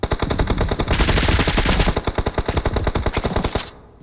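Rapid automatic gunfire from the battle royale game PUBG, loud sustained bursts of evenly spaced shots for nearly four seconds, stopping abruptly near the end; no talk.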